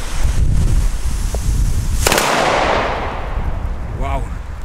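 New Year's Eve firecrackers crackle and bang in dense bursts, followed by a sharp blast and a spreading roar, then a shrill rising whistle from a Lethal Whistle firework near the end, with a voice faintly present.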